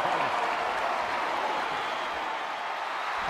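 A virtual arena crowd in WWE 2K23 applauds and cheers a wrestler, a steady, dense wash of clapping and crowd noise that stays loud and even throughout.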